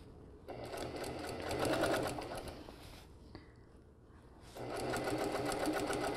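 Sewing machine stitching a collar onto a garment neckline, its fast steady whir running loud and close, pausing briefly in the middle before starting up again.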